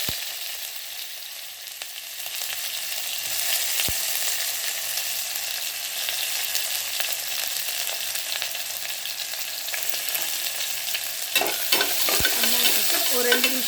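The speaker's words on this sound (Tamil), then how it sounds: "இப்போ இதெல்லாம் பொரிஞ்சதுக்கப்புறம் வெங்காயம்" Onion sautés with whole spices in hot oil in a pan, a continuous close sizzle with occasional stirring scrapes, and a louder burst of spatula movement near the end.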